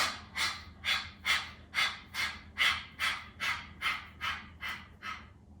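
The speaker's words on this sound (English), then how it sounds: "take an inhale through your nose. And exhale, use your punches to punctuate your exhales" Forceful exhaled breaths during a yoga session with punching moves, about eleven sharp, evenly spaced puffs of air, close and clear, each one a short rushing burst with brief quiet between.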